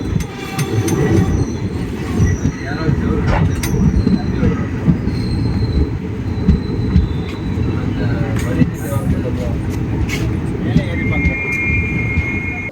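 The Silambu Express pulls into Karaikudi Junction with a loud, steady rumble of wheels on rail, scattered high metallic squeals and clanks running throughout, close by and continuous.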